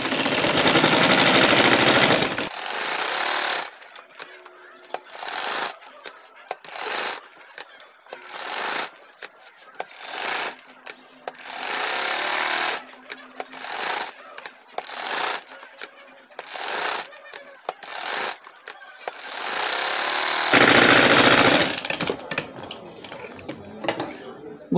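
Sewing machine stitching a kameez neckline, with longer loud runs at the start and end and many short stop-start bursts between, while a person talks in between.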